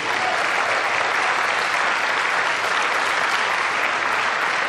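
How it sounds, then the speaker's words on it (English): Dense, loud applause fills the room at a General Motors press conference at the 2007 North American International Auto Show, celebrating Car and Truck of the Year awards, with steady uninterrupted clapping from a large audience. "Thanks very much for that applause."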